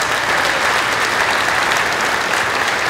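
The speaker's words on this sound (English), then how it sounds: "give him a round of applause, everyone" Steady, dense applause from a crowd at a livestock sale of champions, honoring a steer buyer, filling the whole stretch loud and close with no pauses.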